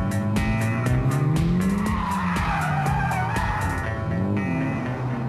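A rally car drifts on a gravel stage of the 2006 Victorian Alphera Dutton Rally, its engine revving up and down while the tires skid and squeal loudly and continuously throughout.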